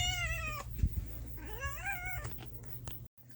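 A pet cat meows loudly at close range, two drawn-out, rising and falling calls with a short pause between, followed by quieter rustling and a sudden cut to near silence; no hiss stands out clearly.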